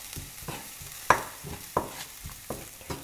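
Onions, garlic, dried shrimps and curry powder sautéing in a pan, a soft sizzle broken by several distinct scraping stirs of a utensil.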